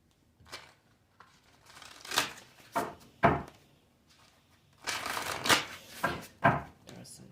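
Tarot cards are shuffled by hand close up in a series of quick riffling bursts separated by short pauses, quiet overall, with no talking.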